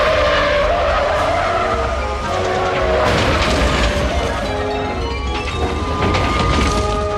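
A truck skids in a movie scene, with continuous loud tire screeching and rumbling that swells midway into crashing impacts and metallic clatter, with no voices.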